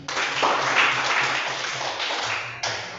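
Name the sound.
classroom applause for group 2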